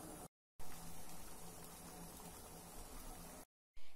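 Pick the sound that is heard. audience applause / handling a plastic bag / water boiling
water boiling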